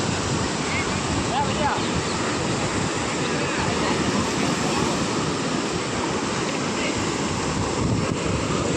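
Sea waves at RK Beach in Visakhapatnam make a steady, loud broadband roar with wind buffeting the microphone, continuous and unbroken throughout with no clear individual breakers standing out.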